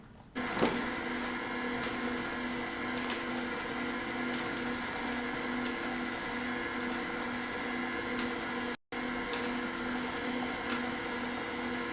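A Nama juicer runs steadily while making almond milk, its motor giving a continuous mechanical whir with a sustained tonal hum, broken only by a momentary cutout near the end.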